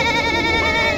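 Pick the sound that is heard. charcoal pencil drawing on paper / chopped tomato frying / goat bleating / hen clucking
goat bleating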